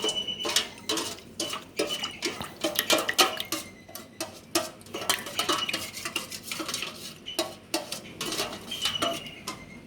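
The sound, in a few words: stirring flour dough mixture in a bowl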